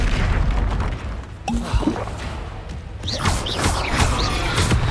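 A Confringo fire spell blasts in the Hogwarts Legacy game, with loud booming bursts and crashing impacts amid dense, noisy combat effects, the bangs following one another over several seconds.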